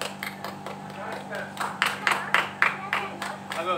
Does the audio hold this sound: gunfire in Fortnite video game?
no